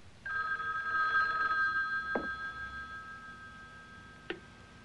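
Old telephone bell ringing in a police station in a 1958 science-fiction horror film, one sustained metallic ring followed by a couple of brief clicks as the receiver is handled, fairly clear and alone.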